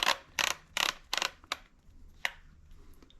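Metallic clicks and clacks from a TriStar Viper G2 shotgun being reassembled as the bolt is put back on, four sharp ratcheting bursts in quick succession followed by a couple of lighter ticks, close and fairly loud.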